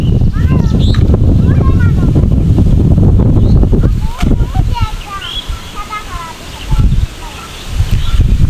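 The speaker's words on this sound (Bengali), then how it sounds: "আজকের আবহাওয়াটা অনেক সুন্দর, বাতাস বইতেছে, সম সম শব্দ বাতাসের।" Wind blows outdoors in a loud, rumbling rush against the microphone that eases into softer gusts, with birds chirping and voices faintly in the background.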